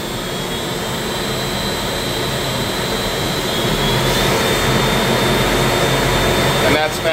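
A Weiler Omni V220 grinder motor runs at its fastest speed with a loud, steady, high-pitched whine and roar that builds slightly partway through.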